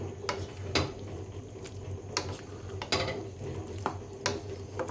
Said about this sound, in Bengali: এবারে দেখো ভালো করে নেড়ে দিচ্ছি